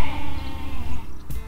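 Sheep on a mountain ranch bleat loudly and close, a few wavering calls in quick succession over rough background noise.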